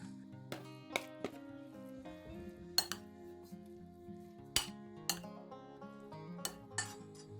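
Tinned tuna and torn baked salmon are mixed together for homemade dog food. A utensil clinks and taps against a bowl in scattered, quiet strikes, with soft squishing in between.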